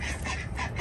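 Ducks quacking on a small ranch, two drakes and two hens kept together, a brief burst of quacks at moderate distance with no talk.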